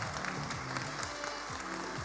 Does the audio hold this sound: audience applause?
yes